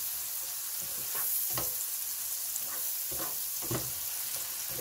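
Chopped onions and chilies fry in a pan for egg curry, giving a soft, steady sizzle with a few brief scrapes of stirring, fairly quiet and with no voices.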